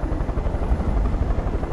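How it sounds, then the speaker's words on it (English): Steady helicopter rotor thumping in Far Cry 5, a dense low chopping drone that stays constant and fairly loud throughout. "Oh, that's a helicopter."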